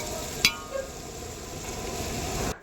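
Curry of broad beans and tomato being stirred in a pan with chilli powder, salt and garam masala, dhaba style: a steady soft sizzle with scraping strokes and one sharp clink early on, with no voices.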